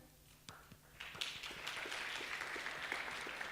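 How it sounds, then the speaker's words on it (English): Applause from a symposium audience on innovative learning and edtech, starting with a few scattered claps and quickly swelling into steady moderate clapping from a crowd. "Let us give them another round of applause."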